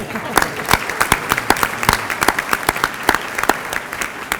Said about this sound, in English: We're going to clap for them anyway if they're not here.